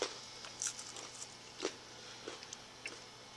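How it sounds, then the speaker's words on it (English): Crunchy chewing on a piece of freeze-dried chicken taken from pizza, several irregular close bites and crackles, faint, over a low steady hum. "I can hear you crunching."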